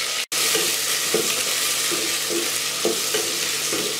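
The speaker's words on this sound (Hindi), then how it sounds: "प्याज को मैं ज़्यादा ब्राउन नहीं करूँगी, इसको मैं पिंक कलर में फ्राई करूँगी" Long slices of one large onion frying in oil for a chana pulao, a steady bright sizzle throughout with soft periodic scrapes of stirring, close and with no talk.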